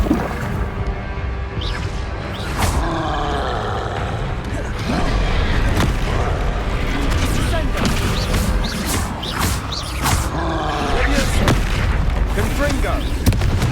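Fire-blast spell explosions in Hogwarts Legacy, a series of sharp booming blasts spread through the fight amid battle noise and score, loud and close.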